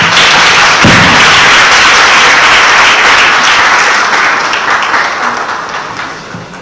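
An audience at the launch of a Women in Maritime event in Liberia bursts into dense, loud applause after a speech, a thick wash of clapping that holds steady and then slowly fades toward the end.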